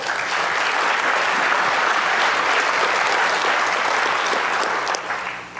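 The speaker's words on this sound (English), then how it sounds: "Give him a round of applause." Loud, dense applause from a large convention audience, sustained and even for several seconds before tapering off at the end.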